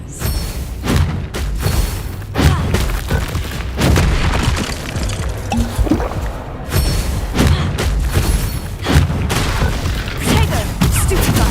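Booming spell explosions from Confringo and Bombarda blasts in the wizarding game Hogwarts Legacy, a rapid barrage of loud thuds and bursts one after another over a dense battle din, close and heavy throughout.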